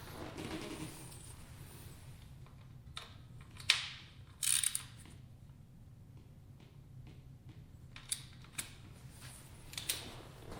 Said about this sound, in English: Then I'm going to use my socket just to make it a little bit more snug.